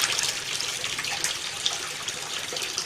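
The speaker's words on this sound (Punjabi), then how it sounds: "ਇਹਦੇ ਵਿੱਚ ਪਾਣੀ ਹੋਰ ਪਾਉਣੇ ਆ" Water splashes and rushes steadily for a few seconds as it is poured in while making rose water, a continuous wet pouring sound close by with no talking.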